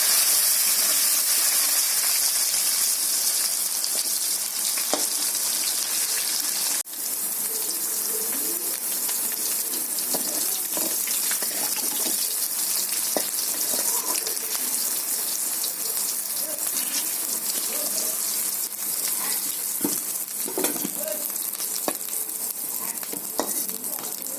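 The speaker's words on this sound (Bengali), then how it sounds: "আলুগুলো আমি ভেজে নিচ্ছি।" Potatoes frying in hot oil give a steady, dense sizzle throughout, with occasional scrapes of stirring and faint bird calls in the background on a rainy day.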